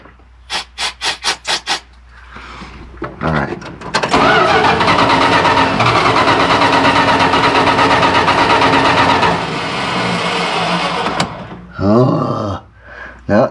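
A 1985 Dodge B250 van engine cranks in several short rhythmic bursts, catches, and runs loud and rough for several seconds before it dies back, with faint sounds of handling around it.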